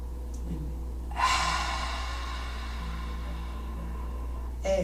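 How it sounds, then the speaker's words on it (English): During a gentle yoga session, a single long audible breath rushes through the nose close to the mic, steady and airy after a quiet start, with a second inhale beginning right at the end. "Breathing in through your nose."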